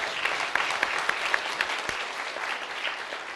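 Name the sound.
audience applause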